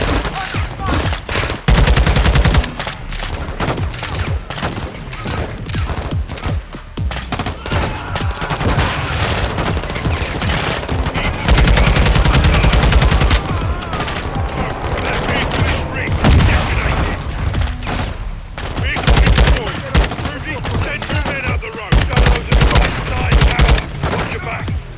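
Machine gun fire and rifle shots from a prison-break battle in Call of Duty Modern Warfare 2 rattle in dense, loud bursts with booming impacts throughout, while voices shout and talk over the continuous firefight.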